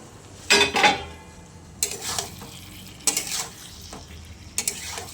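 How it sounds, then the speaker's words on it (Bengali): Fried chicken pieces are worked through a chilli chicken sauce with added water; a spatula scrapes and stirs the pan in four distinct bursts over a soft, continuous sizzle, with no talking. "জল দিয়ে আর চিকেন ফ্রাইগুলোকে ওর মধ্যে দিয়ে কষিয়ে নেবো ভালো করে।"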